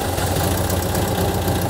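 A Mexican-built VW Beetle engine, one with an overheating problem, idles steadily and close by, with a constant low rumble and no break in the sound.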